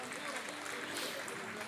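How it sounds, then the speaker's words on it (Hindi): An audience claps for a double bass at a live concert of songs, a short, faint burst of applause that stays even throughout. "ज़ोरदार तालियां हो जाए इसके लिए।"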